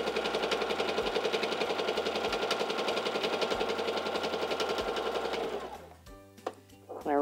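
A Singer Simple 3337 sewing machine stitches fabric with a steady, close, rapid mechanical chatter for several seconds, then slows and stops, followed by small clicks and handling noises.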